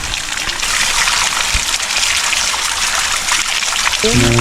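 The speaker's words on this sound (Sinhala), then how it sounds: "මේ මෙතන වතුර පාරක් තියෙනවා" A continuous trickle of a small stream rushes steadily nearby on misty Haritha Kanda hill in Sri Lanka, with a voice starting briefly at the very end.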